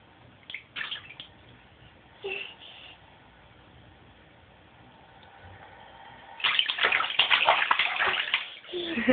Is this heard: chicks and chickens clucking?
no